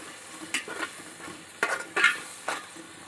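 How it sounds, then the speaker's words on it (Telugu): Ginger garlic paste fries in hot oil for a chicken curry, sizzling under repeated stirring, with a spoon scraping and clinking against the pan in short bursts. "ఇవి బాగా వాడాలండి మసాలా అనేది పచ్చివాసన పోయే వరకు వాడాలి"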